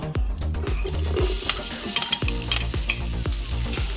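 Onions frying in a pot after browned sausage for Italian Sunday gravy, a bright sizzle under repeated utensil scrapes and knocks against the pot, steady and close.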